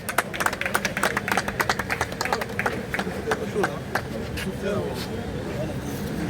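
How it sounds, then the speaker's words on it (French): An audience at a donation ceremony for sanitation equipment in Kinshasa claps in a quick, irregular patter, which fades into a steady crowd murmur. "Sous vos applaudissements, s'il vous plaît."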